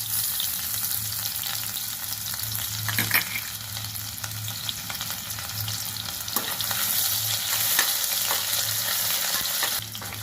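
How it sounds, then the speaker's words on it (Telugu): Chopped garlic and ginger fry in hot oil for carrot rice, giving a continuous close sizzle with occasional stirring scrapes and a low steady hum beneath, and nobody speaks. "వెల్లుల్లి వేగుతున్నాయండి"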